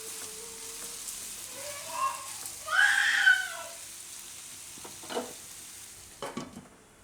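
Gunda and raw mango curry with fenugreek cooks in a pan, giving a soft, steady sizzle with a few louder stirring and clattering moments near two, three, five and six seconds. No one speaks.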